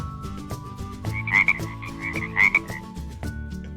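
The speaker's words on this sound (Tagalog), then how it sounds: "Palaka." A frog croaks in two loud bursts over a steady musical backing, each a short rattling call a second or so long.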